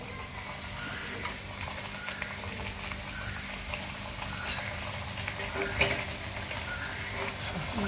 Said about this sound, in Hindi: तेल गरम हो गया है, और ये बाटियां इसमें जाएगी